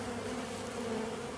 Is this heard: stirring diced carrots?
no